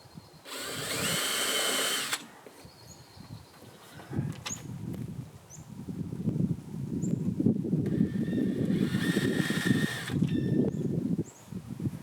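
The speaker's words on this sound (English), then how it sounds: "now I've done the pilot hole for the 4 new holes" Two short bursts of a high-pitched power drill whine drilling pilot holes in a camper van panel, separated by clattering and rustling handling noises close by.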